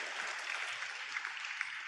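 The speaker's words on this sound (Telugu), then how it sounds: "చప్పట్లు కొడుతూ దేవునికి స్తోత్రాలు చెప్దాం" Church congregation clapping in praise, a steady dense patter of many hands filling the whole moment at moderate distance, with no voices over it.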